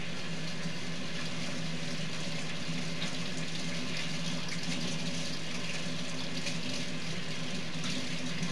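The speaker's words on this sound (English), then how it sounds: "Wash my hands here." Tap water runs steadily into a sink as hands are washed before cooking a breakfast burrito, a continuous close rushing splash with no talk.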